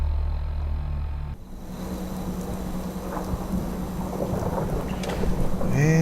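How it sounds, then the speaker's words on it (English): Steady rain hisses over a rumbling roll of thunder in the video game Fallout 4, with the storm continuing as a dense wash and a faint synthetic tone rising near the end. "And it's raining."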